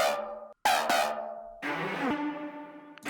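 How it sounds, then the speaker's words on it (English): A synth lead in a bass house drop plays a few bright sustained notes with sharp attacks and decaying tails, loud and close, with no talk. "So there is actually an extra lead that sounds like this"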